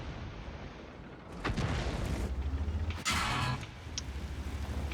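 Heavy shell impacts strike a tank's side in World of Tanks, two loud broadband blasts about a second and a half apart over a steady low engine rumble.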